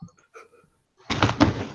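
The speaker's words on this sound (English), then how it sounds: "My keyboard fell on my face." A computer keyboard falls onto a person's face during an online tabletop roleplaying session, making one loud, close clatter with a second knock, after some faint earlier talk.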